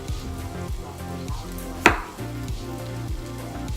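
A knife cuts the sprouted spots off potatoes on a board with a quick run of repeated taps, one sharper crack midway, and no talk.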